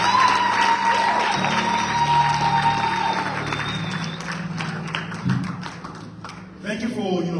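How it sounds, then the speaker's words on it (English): Applause and scattered cheering from a church youth conference audience, a lively mix of clapping, thumps and whoops under ongoing speech and a sustained tone, fading and surging toward the end. "Give yourselves a round of applause."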